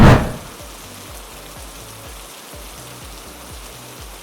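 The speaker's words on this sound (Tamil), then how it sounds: "அடுத்த இடத்துக்கு ரைட் பண்ணி போயிட்டுருக்கும்போது சரியான மழை வந்துருச்சு" Heavy rain falling during a motorbike ride on the way to Varkala, a steady dense hiss that stays even and loud throughout after a brief louder burst at the start.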